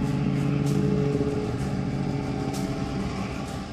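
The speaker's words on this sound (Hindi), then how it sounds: "स्नो स्कूटर भी है" A snow scooter engine idles and runs at a snowbound army post on the Line of Control in -20 degree cold, a steady mid-pitched motor drone that holds nearby and eases slightly toward the end.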